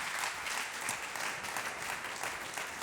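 A church congregation breaks into sustained applause during a sermon, a dense, steady wash of many hands clapping with no pauses, filling the room evenly for its full length.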